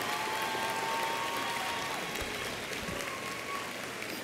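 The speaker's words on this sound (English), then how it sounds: "join me in giving a thunderous round of applause for all of the parents, friends, and loved ones who are here" Crowd applause at a university commencement ceremony in St. Thomas, a broad, even wash of many hands clapping from a distance, sustained and fairly faint, with a faint voice now and then.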